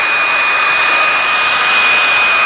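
A Bissell PowerGlide Pet vacuum cleaner runs loud and steady, a constant close whine and rush of air with a high pitched tone and no pauses.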